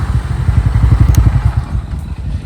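A Bajaj Pulsar N160 motorcycle engine revs close and loud, its rapid throbbing exhaust pulses rising and easing over a couple of seconds.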